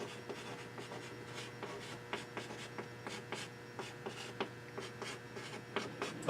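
Marker or chalk strokes on a classroom board during a maths lesson on average rate of change: a steady series of short, quiet scratchy taps and squeaks close by, with no talking.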